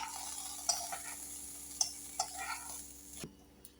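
Sausages frying in a pan, a soft steady sizzle broken by several sharp clicks and scrapes of a spoon stirring, close by, and the sizzle falls away near the end.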